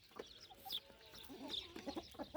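Chickens cluck and a rooster calls nearby, several short bursts of squawks and clucks in quick succession, fairly faint.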